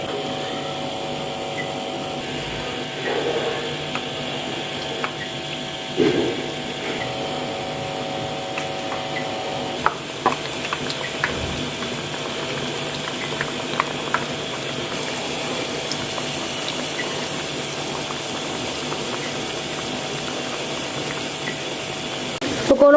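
Pakoras fry in hot ghee in a pan, giving a steady, soft sizzling hiss that runs unbroken throughout with occasional faint pops and clinks.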